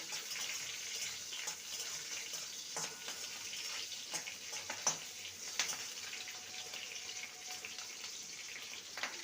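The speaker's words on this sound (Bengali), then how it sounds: "কয়েকটা চেরা কাঁচা লঙ্কা দুটো গোটা শুকনো লঙ্কা ফোড়নটাকে ভেজে নেব" Green and dried red chillies frying in oil as tempering for masoor dal, a soft, quiet steady sizzle with occasional small pops and clinks of stirring, no talking.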